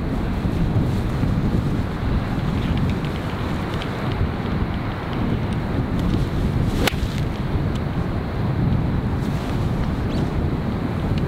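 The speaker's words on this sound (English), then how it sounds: "The wind's off the right." Wind blowing across a coastal golf course, a steady loud rumbling roar buffeting the microphone throughout, with no breaks.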